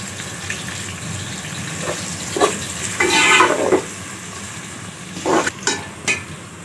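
Onions frying in a pan with salt while stirred, a steady low sizzle with scraping and clinking of a spoon against the pan, louder bursts around the middle and near the end.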